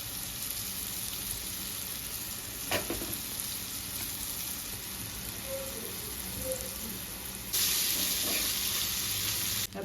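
Pieces of kupa (tuna) fish fry in a pan over moderate heat, giving a steady broadband sizzle throughout with a few brief pops and a louder, brighter sizzle swelling near the end; no voices.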